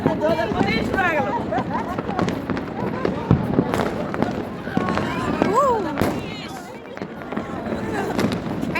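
Fireworks going off on New Year's night around a rooftop, a dense run of cracks and bangs with whistling rockets rising, heard from a distance while people talk nearby.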